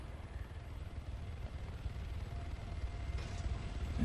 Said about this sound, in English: And see this heli with the blade still going